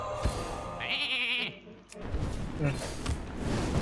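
A sheep bleats from a Hearthstone polymorph spell effect, a short wavering cry standing out in the middle of game sound and ongoing talk.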